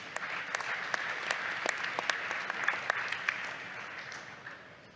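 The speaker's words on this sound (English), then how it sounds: "So I think that deserves an applause." Audience at a panel discussion on net zero fuel pathways applauds steadily, dense clapping with a few sharper claps standing out, holding for several seconds before fading toward the end.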